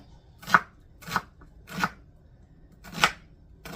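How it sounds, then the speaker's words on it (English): A knife chops through red onion on a board with four distinct, evenly spaced thuds, close and crisp, with quiet gaps between each cut and no voices. "I'm going to use red onion because Tom is liking the red onions better than regular onion"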